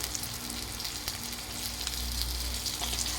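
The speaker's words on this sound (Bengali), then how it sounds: "কারকল ভাজি বয়ে দিছি আর এদিকে মটরটি বয়ে দিছি।" Bitter gourd (karela bhaji) frying in a pan gives a steady, close hiss of sizzling oil that holds even throughout with a low background hum, and no voices are heard.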